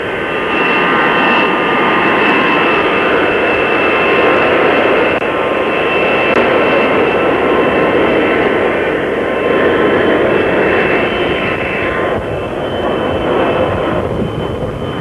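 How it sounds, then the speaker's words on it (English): A commercial jet airplane taxiing out to take off at the Dallas-Fort Worth area airport, a steady loud roaring engine drone that holds throughout without letup. "Commercial jet here in the background is that of a commercial jet going out to take off."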